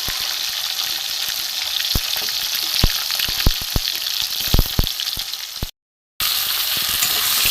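Diced tomato and potatoes sizzle loudly in hot oil in a pan for a vegetarian cabbage curry, a steady hiss with scattered sharp crackles and pops, briefly cutting out before the frying resumes.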